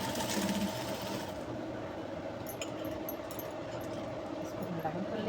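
A sewing machine stitches the side seam of a jumpsuit, a steady, rapid mechanical whir running continuously at moderate loudness close by, with some light rattling in the background.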